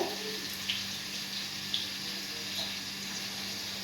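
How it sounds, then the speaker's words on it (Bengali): A coconut rinsed under a running tap at home, a faint, steady trickle of water with a few soft splashes and knocks, quiet and close. "নারকেলটা ধোবো"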